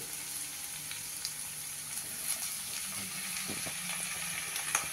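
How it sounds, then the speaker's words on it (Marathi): Chopped tomatoes tumbling into a pan of frying bell pepper masala, a steady soft sizzle with faint crackles and a few brief pops throughout. "आता आपण टोमॅटो घालूया त्यामध्ये."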